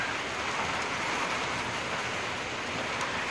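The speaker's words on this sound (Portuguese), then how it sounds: "Gente, escuta essa chuva." Heavy rain pouring down in a dense, constant hiss, loud and close, with no voices.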